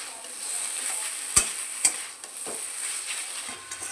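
Potatoes and pumpkin greens being pressed and stirred with a spatula in a frying pan, a soft steady sizzle broken by a couple of sharp scraping knocks of metal against the pan, no talking.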